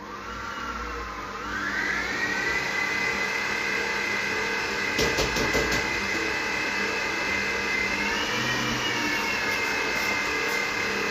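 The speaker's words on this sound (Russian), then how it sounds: "Включаем миксер и перемешиваем на слабой скорости." An electric mixer runs on low speed through batter as flour is added in stages for marshmallow rose desserts, giving a steady, continuous motor whine that rises in pitch after a quiet start and carries on with no talking.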